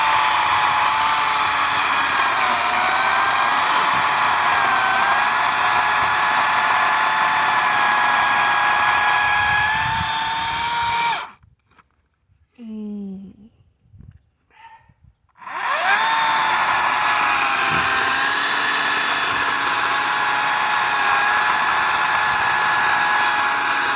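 A chainsaw engine drones loudly and steadily, cuts out abruptly for a few seconds, then roars back up at full volume.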